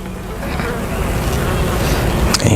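Bees buzz in a top bar hive during an inspection, a dense low hum close by, with a brief sharp clatter near the end.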